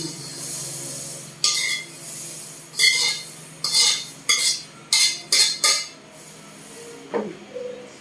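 Stainless steel spoon scraping and clinking against a container in a series of short, bright strokes, close by, with a steady low hum underneath, while making moringa tea.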